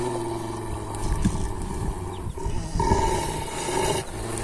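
A lion's roar, heavy and rumbling, rolls out in two long swells over continuous rough background noise, with no one speaking.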